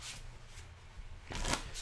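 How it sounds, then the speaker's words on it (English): A deck of playing cards being shuffled for Open Face Chinese Poker, soft riffling and rustling that swells near the end, faint and close against a quiet room. "You take the deck and you shuffle the deck"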